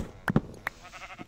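Two or three short sheep bleats from livestock in a video game, close and fairly loud, separated by brief pauses with a soft background hum.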